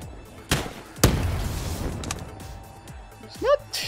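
Shots from a grenade launcher in Call of Duty Black Ops 4 custom zombies, two sharp thumping blasts close together with a lingering rumble, followed by a brief whistling chirp; a voice talks briefly in between.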